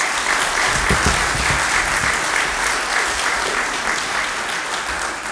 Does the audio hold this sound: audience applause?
yes